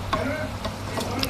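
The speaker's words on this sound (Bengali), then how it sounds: "আমার নোনা মাছটা বেগুনের সাথে কষানো হয়ে গেছে" Salted hilsa and eggplant are sautéed in a pan: a close sizzle broken by quick scraping strokes of a spatula, about four short stirs in just over a second.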